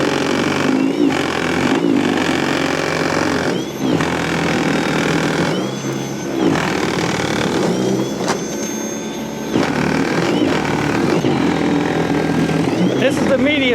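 A battery-powered snow blower rated for a 20-inch width and 12-inch depth runs steadily through snow, a loud continuous motor whir with brief dips, while a person talks over it.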